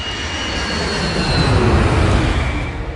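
A Boeing 757 jet cruising at altitude produces a steady, broadband roar with a faint high whine, constant and fairly loud throughout with no talk.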